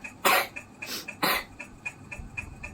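A few sharp coughs from a young child, close by, followed by softer throat sounds and light ticking in a quiet room.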